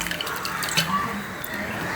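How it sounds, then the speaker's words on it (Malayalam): Water poured into a curry pot holding jackfruit seeds, green chillies and curry leaves, a brief close splashing and trickling pour with faint drips and no talk. "പാകത്തിന് വെള്ളം ഒഴിച്ച്"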